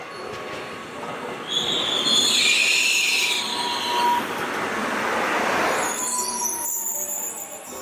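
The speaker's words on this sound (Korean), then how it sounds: "오후 1시 반쯤에 1호선 열차에 탑승합니다." A Korean local train rolls along the rails with a steady, loud rumble, metallic wheel squeal and high screeching tones rising in the middle before easing off; no voices.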